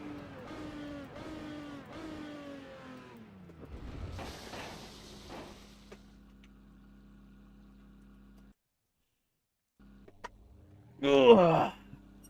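Race car engine in the Assetto Corsa racing game, revving through rising harmonic sweeps early on, then settling into a steady low drone that cuts out briefly before a sharp loud burst near the end.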